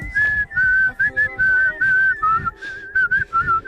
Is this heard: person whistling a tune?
yes